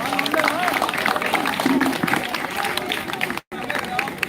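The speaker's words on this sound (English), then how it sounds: "All the teammates of Krishna, can we have them a big round of applause?" A crowd at a Krishna Janmashtami pot-breaking celebration claps and cheers for Team Krishna, a dense, sustained burst of applause with chatter mixed in, briefly cutting out near the end.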